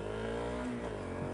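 A Honda CRF 250L dual-sport motorcycle with a small street-bike engine accelerating toward highway speed, a steady droning engine note rising in pitch through a gear, heard close under constant wind rush.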